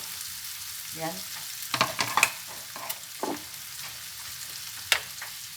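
Snow peas tossed into butter with shrimp in a pan, giving a soft sizzle with intermittent stirring scrapes and clatters; a voice speaks briefly.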